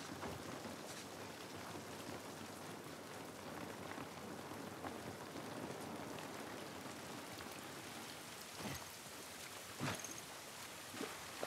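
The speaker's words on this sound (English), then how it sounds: "This rain ain't gonna do us any good." Steady rain falls in the video game The Last of Us Part 1, a dense constant hiss of drops on surfaces with a few louder splashes or taps near the end.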